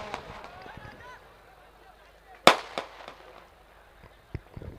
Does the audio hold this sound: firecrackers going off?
yes